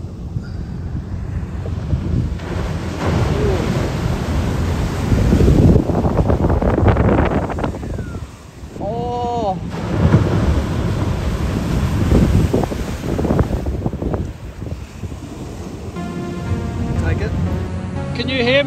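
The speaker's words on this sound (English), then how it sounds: "there's heaps of waves" Heavy ocean waves break and roar at a remote reef slab under strong wind buffeting on the microphone, with excited voices shouting over the surf.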